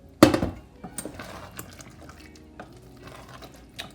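Porcini mushroom soaking liquid is poured into a pan of mushroom risotto, starting with a splashy pour and followed by quieter trickling and light clinks of kitchenware.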